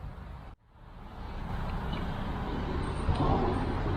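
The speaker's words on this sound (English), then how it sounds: "Sizzling Spam." Spam slices coated in a bourbon brown sugar glaze sizzle steadily in a hot pan, a dense continuous frying hiss that cuts out briefly near the start and then resumes and holds, close and fairly loud.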